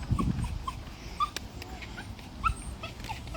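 A pet dog named Chloe whines and yips in short excited bursts, several high squeaky whimpers scattered across a few seconds, with faint background rustle and no talking.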